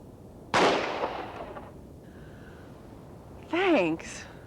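Revolver loaded with a mix of dummy and live rounds, fired once: a sharp close report with a decaying tail, followed later by a voice speaking.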